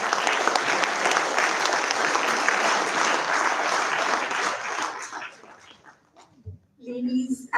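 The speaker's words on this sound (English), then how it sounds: "A round of applause for Sir." An audience at an IMI Bhubaneswar event claps in a dense round of applause that fades out after about five seconds, followed by brief voices and a short dog-like yelp near the end.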